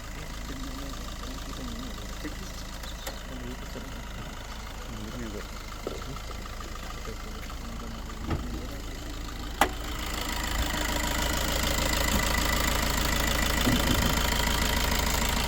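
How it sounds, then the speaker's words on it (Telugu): A 2019 Maruti Ertiga ZDi+ 1248 cc smart hybrid diesel engine idles with a steady low rattle, growing louder toward the end, while voices talk nearby. "smart hybrid engine twelve forty eight CC diesel engine ఇది"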